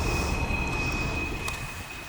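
A freight train rumbling past near a rail crossing in Lakeland, Florida, a loud continuous low roar with a thin steady high whine over it.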